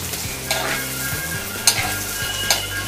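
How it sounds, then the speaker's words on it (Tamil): Onion and lightly crushed garlic frying in a pan for South Indian fish curry, a steady close sizzle with occasional scraping knocks from stirring. "இது நல்லா வதங்கட்டும் வெங்காயம்"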